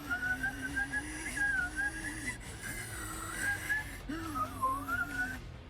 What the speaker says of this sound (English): Oh, I did not like the whistling.